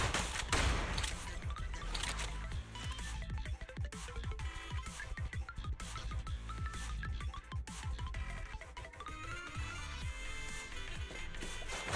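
Gunshots fired in a video game, clusters of sharp cracks and rapid volleys amid a busy mix, fairly faint overall, continuing throughout.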